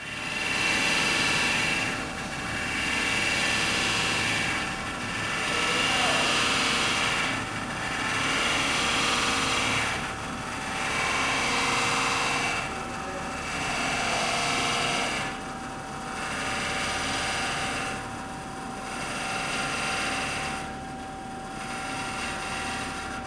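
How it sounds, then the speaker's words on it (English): A Cincinnati No. 2 OM centerless grinder grinds a part, giving a loud, steady high-pitched whine with a constant tone that swells and fades in slow regular pulses throughout. "now we're grinding apart"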